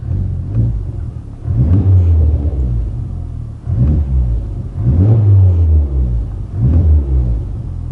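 Honda Civic Type R FL5 with a Magnaflow exhaust on a cold start, a loud, deep rumble swelling in repeated revs roughly every one and a half seconds, close and steady between pulses.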